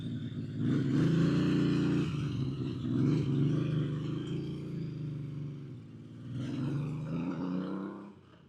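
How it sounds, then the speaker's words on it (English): A Yamaha XS750 three-cylinder motorcycle engine runs nearby, its moderate, uneven throb rising and falling through a few light blips of the throttle. "And it has a typical sound with the 3-cylinder."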